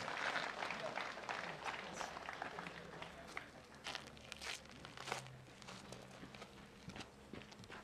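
Faint applause from a gathering at a memorial rite held in a Buddhist temple, a soft scattered clapping that continues unevenly throughout, heard at a distance with some shuffling and low voices.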